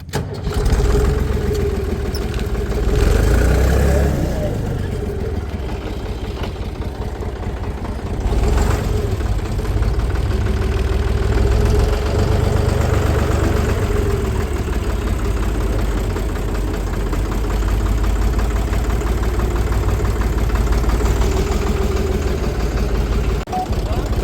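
A Deutz Fahr tractor engine runs at a steady idle for a long stretch, a deep continuous rumble close by, with a few louder bumps and voices talking over it.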